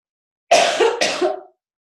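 Two quick, harsh coughs, close and fairly loud, with silence on either side.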